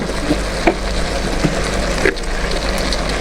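Oil going into a pan of well-cooked onions for an aloo chicken salan, a loud, dense crackling sizzle like heavy rain, steady throughout with a few sharper pops, no speech.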